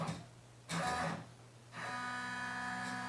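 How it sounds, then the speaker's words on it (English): An embroidery machine traces the outline of a design on a baby beanie, giving quiet whirring motor runs in short bursts, a brief surge and then a longer steady hum, close and with no talking. "let's try a trace to see if it fits"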